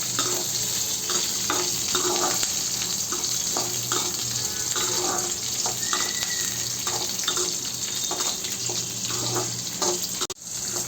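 Dried red chillies frying in a pan, a steady, moderately faint sizzle with occasional stirring clicks and scrapes, continuous throughout without speech.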